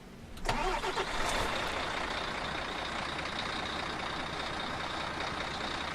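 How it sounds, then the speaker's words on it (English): A Volvo NH12 truck engine cranks and fires up in Euro Truck Simulator 2, a loud starter burst followed by a steady, rumbling idle that holds for several seconds with no talking. "I think that's standard Volvo sounds"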